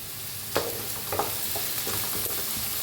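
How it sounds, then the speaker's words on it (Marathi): Curry leaves sizzle and crackle in hot oil in a pan with onion as a spoon stirs them, giving a steady hiss broken by several sharp spitting pops and scrapes, close up with no talking. "हलवून घेऊया कढीपत्ता"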